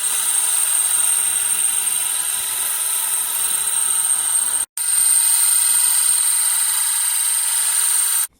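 Cutting steel on a lathe while machining one side of a brake disc cutting tool holder: a steady, bright mechanical whine with a ringing tonal edge, cut off by a short gap midway, then resuming until a sudden stop.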